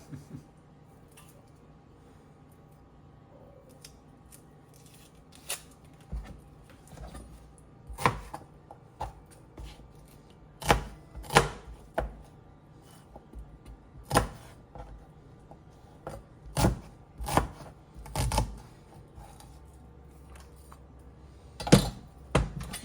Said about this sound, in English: I'm just gonna go ahead and add those shallots as I'm cutting them up